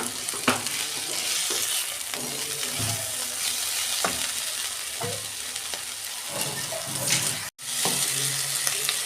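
Malabar spinach and small shrimp sizzle in a pan while being stirred, a loud continuous frying hiss with scraping stir strokes and clatters, briefly cut to silence near the end.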